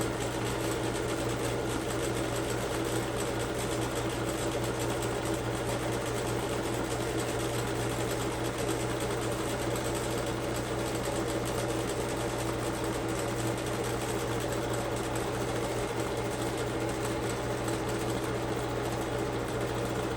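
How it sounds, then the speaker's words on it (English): A sewing machine runs steadily as it zigzag stitches around the edges of a pillowcase, a continuous loud mechanical whir with no pauses, close and alone. "I'm using a zigzag stitch around my edges"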